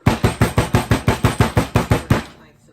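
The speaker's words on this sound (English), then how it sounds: "I swore I woke up to fucking, like, pounding on my door." About a dozen heavy, evenly spaced knocks or bangs come fast and loud, as if pounding on a door, and then stop abruptly into silence.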